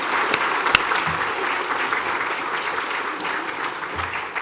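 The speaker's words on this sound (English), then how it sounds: "please give yourselves a round of applause" Sustained audience applause fills a high school Veterans Day assembly at Fremont Ross High School, a dense, steady patter of many hands clapping in a large hall for the whole stretch.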